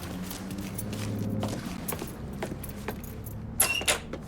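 Keys jangling as they are picked up in Mafia 3, a clear metallic clatter near the end over a low steady background hum and faint movement.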